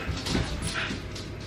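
Dogs whimper and yip close by in a home, a continuous whiny, restless sound with short higher-pitched cries, loud and with no talk over it.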